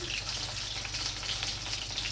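Green plantain pieces frying in a pan, a steady close crackling sizzle of oil with light popping, continuous and without voices.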